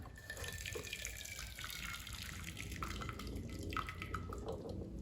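Running water pours steadily from a faucet into a sink, with faint splashing and clinks as noodles are rinsed.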